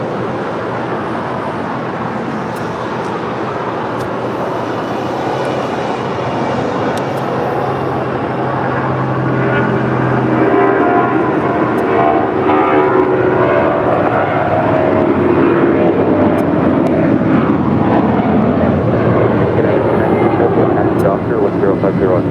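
A United Boeing 777 airliner departs on runway 25 right at LAX, its engine roar loud and steady and swelling midway. Someone talks over the noise.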